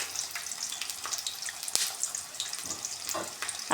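Onion, garlic and ginger frying in a pan in a village kitchen, a steady, bright sizzle with light crackles running throughout at moderate volume, no talking.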